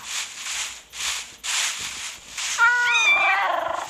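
A cat meows once in Minecraft, a clear rising-then-falling cry near the end, preceded by a few soft swishing noises.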